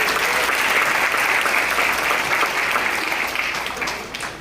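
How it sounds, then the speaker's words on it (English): Steady, dense applause from a crowd at a wedding reception at a country club, loud and continuous, tapering slightly toward the end with a few voices mixed in. "Round of applause."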